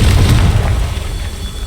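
A Confringo blasting spell detonates in the game Hogwarts Legacy with a loud, deep boom that fades into a rumbling tail within under two seconds.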